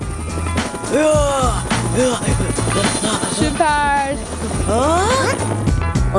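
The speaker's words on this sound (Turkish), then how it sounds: "Drone doğrudan ellerine gidiyor." A small toy drone flies with a thin, steady buzzing whir under lively talk from excited young voices and background music.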